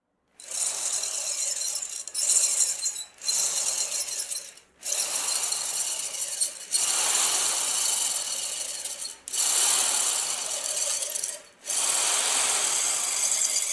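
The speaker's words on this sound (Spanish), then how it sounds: "con pequeños toques en el switch del taladro empiezo a circularlo" Loud mechanical whirring and grinding in several bursts separated by brief pauses, an electric drill spinning a wooden dowel with short taps on the switch, shaving wood up close.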